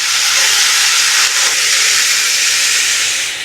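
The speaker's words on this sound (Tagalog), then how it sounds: "Ilagay ang 1/4 cup na toyo, pampalasa." Soy sauce poured into a hot pan of beef sisig with ground meat over low heat, giving a loud, steady steamy hiss of sizzling that runs unbroken throughout, with no talking.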